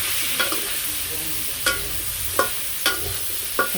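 Spices including salt, turmeric and chili powder fry with a steady sizzle in a pan, broken by about five sharp spatula scrapes at irregular intervals.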